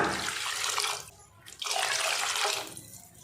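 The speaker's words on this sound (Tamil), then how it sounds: "குருமாவுக்கு தேவையான அளவுக்கு தண்ணி சேர்த்துக்கலாம்." Water pours into a pot of vegetable kurma in two close, splashy streams separated by a short pause.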